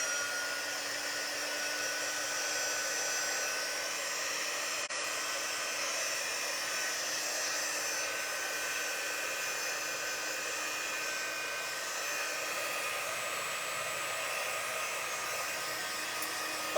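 A hair dryer blows steadily and close up to dry paint on a sheet of plexiglass, a constant even whir with no talking.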